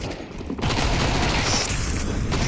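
Gunfire bursts in a Counter-Strike match at a professional esports event, loud and dense after a brief lull, rapid overlapping shots filling the clip.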